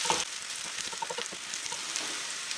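Chopped onion, a little scorched in spots, fries in a pan with a busy continuous sizzle and crackle, close and steady, punctuated by a few small pops.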